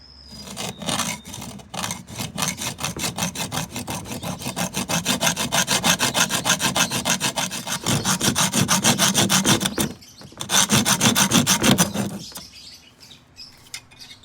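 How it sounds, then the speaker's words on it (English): A hacksaw cutting through luggage wheel axles, rapid back-and-forth metallic rasping strokes close up and loud, pausing briefly before a final burst of sawing. "you will need a hacksaw and we will use it to cut the axles"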